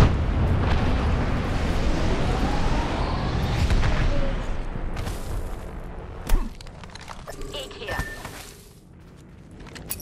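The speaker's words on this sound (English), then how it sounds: "Flinging an arc star." Arc star grenade exploding in the video game Apex Legends, heavy loud blasts and crackling bursts through the first several seconds, then a sharp pop and quieter gameplay sounds.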